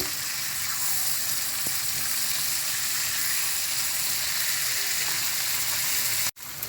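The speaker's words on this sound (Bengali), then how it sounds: "মাছ দিয়ে দিচ্ছি। এখন মাছটা উল্টিয়ে দিচ্ছি।" Hilsa fish pieces frying in a pan of hot oil with ground spice paste, a loud continuous sizzle throughout, broken by a brief sharp gap near the end as the fish is turned.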